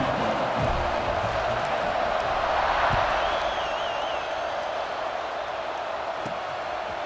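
Stadium crowd in EA Sports College Football 26 roaring steadily at kickoff, a broad continuous wash of cheering with brief whistle-like tones rising over it, loud and sustained throughout.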